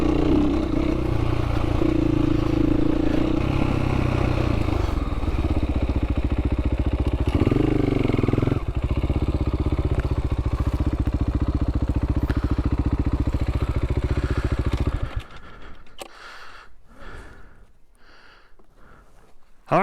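A dirt motorcycle on a Colorado singletrack trail revs and chugs loudly up close, pulling away with clattering engine pulses, then cuts off abruptly, leaving quieter scattered knocks and rustles.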